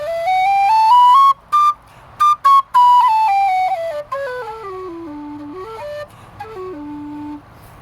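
A low D tin whistle fitted with a carbon air dam plays a slow, clear melody, climbing then descending through sustained notes with brief breaks, solo and close.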